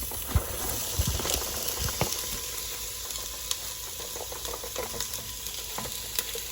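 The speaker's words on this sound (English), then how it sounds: "let's get everything into this pan here, and we're gonna keep the cooking process going." Onion, green bell pepper and garlic, with a little jalapeno, sizzle steadily in a pan, with occasional sharper crackles and stirring scrapes throughout, close and moderately loud with no talking.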